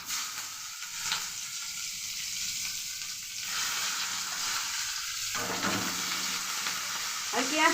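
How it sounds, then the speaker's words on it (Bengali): Chopped onion frying in hot oil with cinnamon, cardamom, cloves, bay leaf and dried chilli, a continuous close sizzle with stirring scrapes and clatters. "আর পেঁয়াজটা ব্রাউন কালার অবধি একটু ভেজে নেব।"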